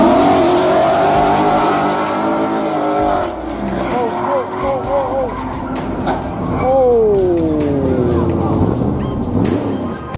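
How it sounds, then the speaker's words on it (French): A speeding supercar about to crash: loud engine roar with rising and falling revs, sharp tire squeals and gliding pitch sweeps, close and intense, and a voice talks over part of it. "Se préparant pour une course, le conducteur accélère, mais perd le contrôle"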